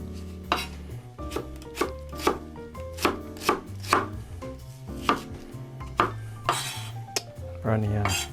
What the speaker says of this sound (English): I'm gonna do a rough chop, rough slice on our onion.